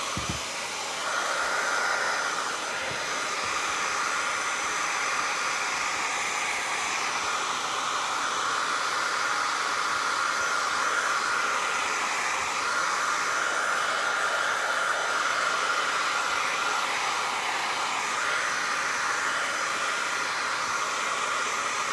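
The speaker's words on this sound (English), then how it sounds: "I'm going to hit this really quick with the blow dryer" A blow dryer runs continuously at close range to dry resin on a glass pinecone, producing a loud, steady whooshing roar with no breaks for the whole stretch.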